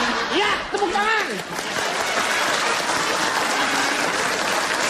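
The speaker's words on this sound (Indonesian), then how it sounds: "Ya, tepuk tangan." Studio audience on an Indonesian comedy talk show breaking into sustained applause right after a short spoken phrase, a dense crowd clapping that fills the rest of the moment.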